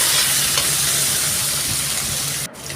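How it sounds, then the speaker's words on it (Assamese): Pork pieces fry in a little oil in a pan, giving a steady, close sizzle with stirring scrapes throughout. The sizzle drops briefly near the end, and no one speaks. "এতিয়া চাবচোন গাহৰি মাংস কিমান তেল ওলাব আৰু এতিয়া মই ভালকৈ ভাজি ল'ম"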